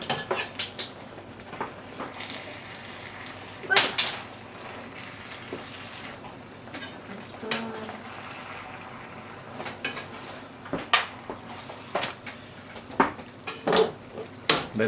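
Miso-braised mackerel is flipped in a pan on the stove, with scattered metallic clinks and clatters of utensil against cookware. A few sharper knocks stand out over a low, quiet background, and no one speaks.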